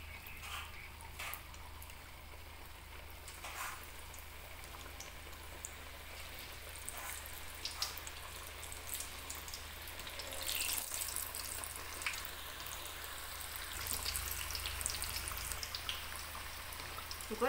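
Cheese samosas sizzle in hot oil, a soft continuous crackle and hiss with scattered pops, fairly faint and close, growing somewhat busier toward the end.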